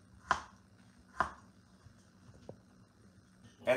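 A knife cuts carrots at angles with two crisp, distinct chops on a cutting board, then fainter taps and a final chop, quiet and close with pauses between strokes.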